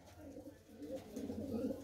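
Pet pigeons kept in a village loft cooing softly in low, rounded repeated calls, faint and close, with a murmur of voices in the background.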